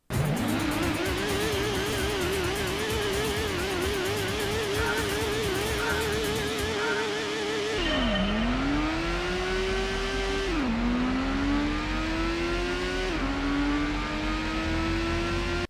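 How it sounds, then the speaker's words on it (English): A loud Toyota Supra engine in a racing video game revs hard and continuously, pitch climbing through repeated gear shifts with sharp drops between them, close and unbroken. "the sound of the virtual exhaust note"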